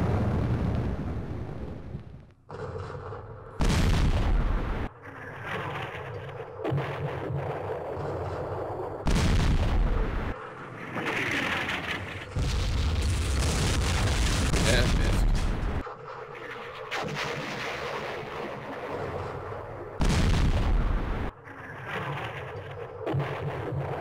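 Airstrike explosions in the Vietnam war game Campaign Series Vietnam, heavy booming blasts recurring at intervals amid rumbling battle noise, loud and close.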